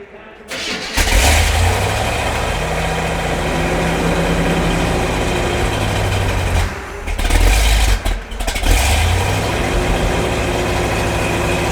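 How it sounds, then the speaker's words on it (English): A large big-block car engine at a car auction cranks and roars to life, then settles into a deep, steady rumble, with a brief dip and re-rev partway through. "That's what a big block sounds like."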